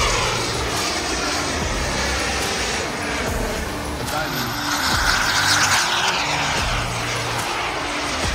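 Jet aircraft flying at an air show in Kentucky, a continuous loud engine roar that swells slightly in the middle of the pass, with crowd murmur and voices underneath.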